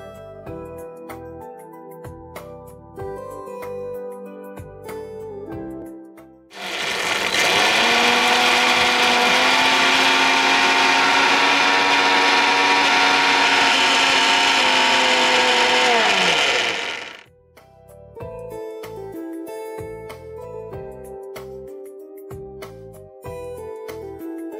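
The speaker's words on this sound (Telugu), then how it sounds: "ఇప్పుడు దీన్ని మనం మిక్సీ పట్టేసుకోవాలి." A mixer grinder whirs loudly and steadily for about ten seconds, grinding tamarind and jaggery with salt and a little water, its motor note holding even before cutting off; clattering kitchen handling is heard before and after.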